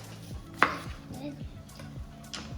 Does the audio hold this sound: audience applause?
no